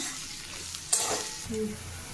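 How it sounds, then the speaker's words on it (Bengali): Chopped onion added to hot oil in a pan where garlic and potato have already fried, giving a soft, continuous sizzle with a sharper burst as it lands and light stirring scrapes after. "এবার পেঁয়াজটা দিয়ে দিল তেলের মধ্যে। রসুনটা আলুটা ভালোভাবে ভাজা হয়ে গেছে, পেঁয়াজটা দিয়ে দিল। এবার পেঁয়াজটা ভালোভাবে ভাজা হবে।"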